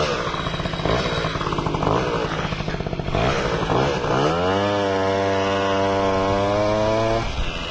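Motorized BMX bike with a small engine accelerating hard from a start: a loud, buzzing, chainsaw-like two-stroke rattle that climbs into a rising high-revving whine, holds, then cuts off near the end.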